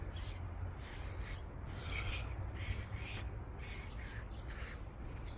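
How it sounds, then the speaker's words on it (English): A sander works along the edge of a wooden deck board, a steady close rasping rub that swells and eases in a regular back-and-forth rhythm. "I brought the sander back and kind of sanded it over"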